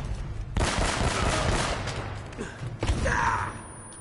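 Gunfire in Uncharted: Drake's Fortune, a burst of broadband shots starting after a brief quiet and continuing at steady loudness, with a second sharp burst near the end.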